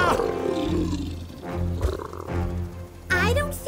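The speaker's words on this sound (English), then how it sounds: "I don't think it's us the tiger's mad at, Preston." A tiger roars in a cartoon, a loud growling roar opening the clip and further snarls following, with a second sharp roar near the end, mixed with a character's voice and music.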